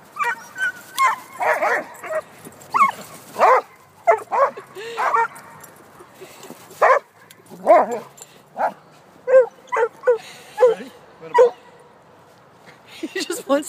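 A dog barks and yips in short bursts, close by, with whimpering tones between barks and brief pauses of quiet.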